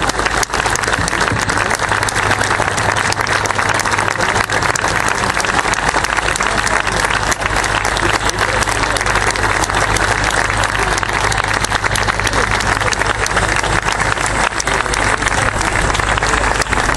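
An audience at a lecture in the Julio Cortázar hall of the 37th Buenos Aires International Book Fair applauds in sustained, dense clapping that stays loud and even throughout, with no break.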